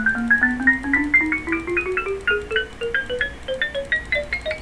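A Minecraft note block placed on an iron block plays a rapid run of bright, bell-like metallic notes that climb gradually in pitch, with no talking.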